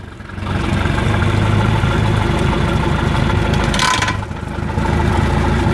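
A Bayliner motorboat engine idles after being switched on, a loud, steady, low-pitched thrumming that dips briefly near the end, overlaid by a short burst of hissy noise.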